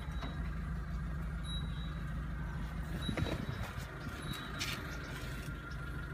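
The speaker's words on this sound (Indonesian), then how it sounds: "RPM di bawah 1000 normal karena masih idle." A 2014 Mitsubishi T120ss pickup engine idles below 1000 RPM, around 700, with a smooth, steady low hum that holds close and continuous for six seconds, with no talking.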